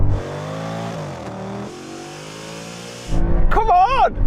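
Audi S8 in a drag race, its engine droning and climbing through the revs, dipping briefly at a gear change before a louder surge near the end, with a voice over the roar.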